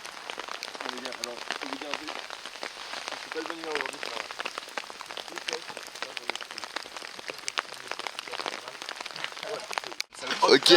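Heavy rain drums on a tent during a mountain trek, a dense crackling patter of drops that holds steady throughout, with a few louder close hits near the end.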